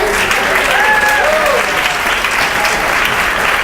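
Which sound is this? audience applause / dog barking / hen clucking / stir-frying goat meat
audience applause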